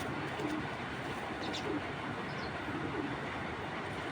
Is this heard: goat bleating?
no